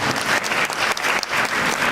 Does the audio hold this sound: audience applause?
yes